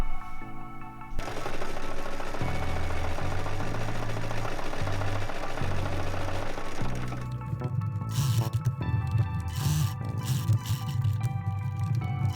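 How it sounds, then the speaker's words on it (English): Sewing machine top-stitching around the edge of a shirt, a steady close mechanical whir with rapid needle clatter that runs almost continuously, shifting in pitch and speed partway through. "top stitching all around the edge"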